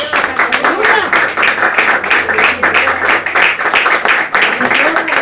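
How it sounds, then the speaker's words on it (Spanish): A church congregation claps together in sustained, steady applause for several seconds, with a voice speaking over the clapping. "Dale un aplauso a Jesús."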